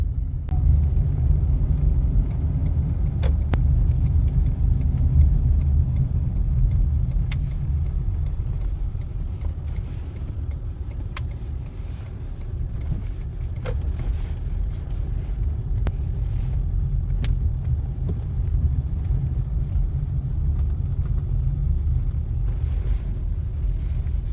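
A taxi car driving through Kyiv toward a gas station, heard from inside as a steady low engine and road rumble with faint clicks, no talk.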